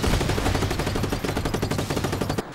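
Rapid, loud bursts of shooting at fuel barrels in the Atari 2600 game Zaxxon, a dense stuttering rattle of shots firing continuously for a couple of seconds with no voices.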